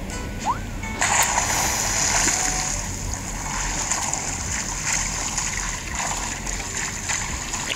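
An Animal Crossing character jumps into the sea at night in winter, producing a splash followed by continuous watery swishing and trickling, steady and fairly close, with faint room noise beneath.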